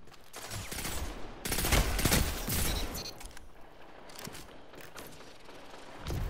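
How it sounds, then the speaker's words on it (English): Bursts of pulse rifle fire in Destiny 2 come in loud, clustered volleys, with a heavy barrage in the middle and quieter shots and mechanical clatter trailing after. "this pulse rifle is going to become the meta"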